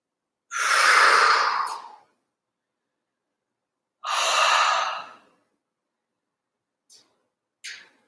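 Slow, audible exhalations during a vinyasa yoga flow: two long, airy breaths a few seconds apart, then faint short puffs, with no one talking.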